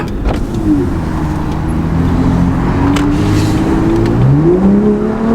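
A loud BMW M2 engine with a non-stock exhaust idles and revs, pitch sweeping up and down in bursts, close and continuous with no voices.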